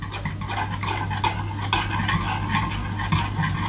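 Oil is stirred into lemon-vanilla madeleine batter in a bowl, giving quick repeated scraping and sloshing strokes with light utensil clinks against the dish, close and fairly loud.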